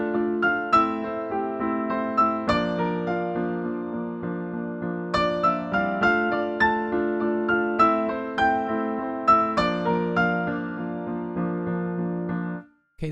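Solo piano plays the second intro, an interlude, from a song: steady rhythmic chords with a melody on top, close and even, stopping abruptly near the end.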